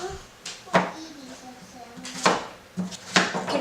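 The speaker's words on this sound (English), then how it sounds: "I'm just going to cube the butternut squash and toss it on the baking sheet." A knife cubes butternut squash for soup, giving a few sharp chopping knocks on a cutting board in an irregular rhythm, close and clear, with a person talking between cuts.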